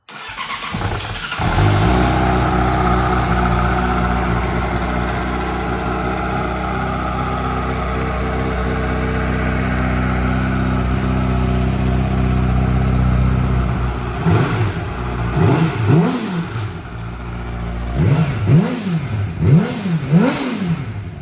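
A 2009 Yamaha R6 sport motorcycle engine with a full exhaust system cranks and catches, settles into a deep rumbling idle, then is blipped repeatedly in sharp rising and falling revs near the microphone.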